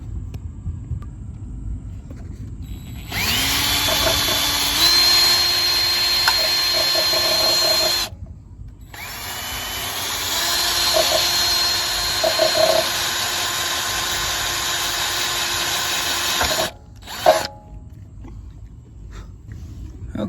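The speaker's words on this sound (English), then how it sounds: "we will be back with drilling the holes through the governor arm up here" A power drill runs in long sustained bursts through the metal governor arm of a Coleman mini bike, its motor whine rising and holding, broken by brief stops, with a low rumble underneath.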